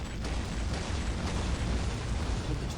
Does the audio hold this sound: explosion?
yes